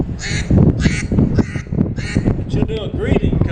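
A duck call blown in a series of harsh, nasal quacks imitating a mallard hen, about six loud close bursts at an outdoor music festival, with someone talking between and under them.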